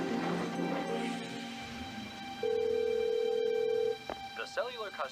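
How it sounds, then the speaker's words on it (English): A telephone rings unanswered with a sustained electronic tone, preceded by speech and followed by a clipped voice, indoors and fairly close. "Come on, answer the phone."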